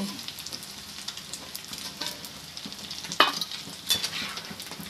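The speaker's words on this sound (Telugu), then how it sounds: "ఇలా బ్రౌన్ కలర్ వచ్చేంత వరకు ఫ్రై చేసుకొని తీసేసుకోవాలి." Boiled eggs frying in oil until brown for a gongura pickle, a soft continuous sizzle and spatter with light utensil scrapes and a couple of sharper pops, no talking.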